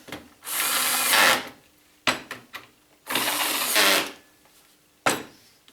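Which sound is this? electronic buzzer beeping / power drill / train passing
power drill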